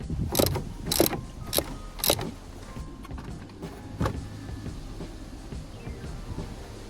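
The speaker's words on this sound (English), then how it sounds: "just loosen off that remaining fixing just at the top and we should be able to take it straight out" A hand ratchet clicks in quick bursts near the start while the top fixing of a front shock absorber is loosened on a Renault Clio 3. Quieter mechanical knocks and rustling follow.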